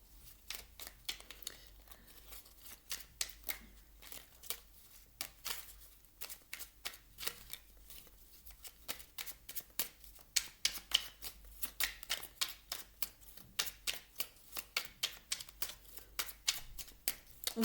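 Tarot cards being shuffled and drawn during a reading, a steady run of crisp riffling flicks and slaps that grows denser and louder toward the end, close and with no talk over it.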